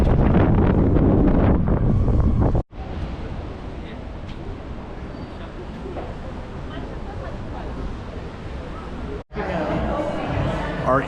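Strong gusts buffet the microphone while crossing Tower Bridge in London, a loud, continuous roar of wind noise with two brief dropouts, and voices faintly chatter underneath.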